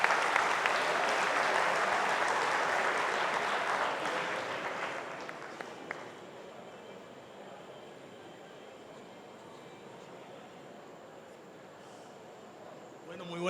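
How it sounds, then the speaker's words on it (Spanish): An audience at a Venezuelan conference session applauds a chemist heading to the podium, loud sustained clapping that fades after about five seconds into quieter room noise and scattered sounds. "Le pido un aplauso para él"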